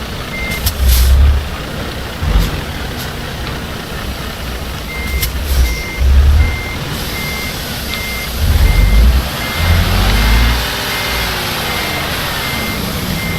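Loud, steady reversing beeps repeat from a large truck backing up to park in Euro Truck Simulator 2, over a low diesel engine rumble with brief hisses of air brakes, and no talking.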